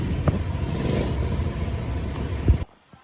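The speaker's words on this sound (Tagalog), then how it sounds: "Gamitin ko na muna yung motor." Motorcycle engine running close by, a steady, loud rumbling drone that holds for a few seconds before cutting out abruptly near the end.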